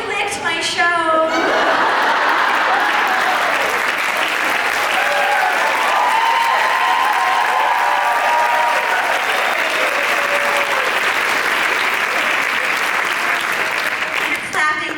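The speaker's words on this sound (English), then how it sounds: "Your clapping gave me the strength to turn this." A comedy club crowd breaks into loud, sustained applause for a comedian, a thick, steady roar of clapping throughout, with a voice heard faintly under it at the start and end.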